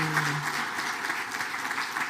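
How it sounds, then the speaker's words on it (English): An audience at a Black men's wellness town hall applauds the planning committee, a steady wash of clapping across the whole stretch with a faint voice briefly at the start. "if we can give them a round of applause"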